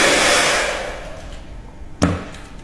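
A common store-bought hair dryer blower roars loudly at the start, then winds down and fades, followed by a single sharp click near the end.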